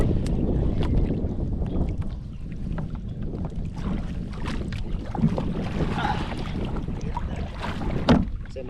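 Strong wind buffets the microphone in a steady roar, with a boat motor and splashing water underneath.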